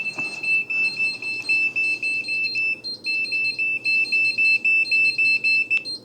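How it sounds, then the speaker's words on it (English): A meat probe thermometer alarm goes off while a brisket cooks in the oven, sounding rapid bursts of high electronic beeps in a steady repeating pattern, close and clear with no talk. "that's my alarm for the meat"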